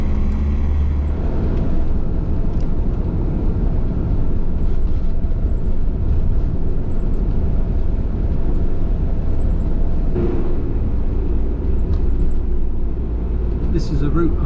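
A car with mud-caked tyres pulls away and drives on, its steady road rumble and engine noise filling the cabin from start to finish, with a slight change in tone partway through.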